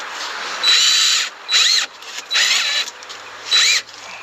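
A power drill drives screws in short whirring bursts, four separate runs of varying length with pauses between, close and loud.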